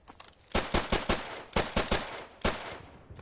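An RPG fired repeatedly in Modern Warfare Remastered: sharp, loud blasts come in quick clusters of three or four, with brief pauses between groups and no talking.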